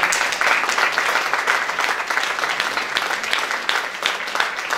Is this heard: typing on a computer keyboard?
no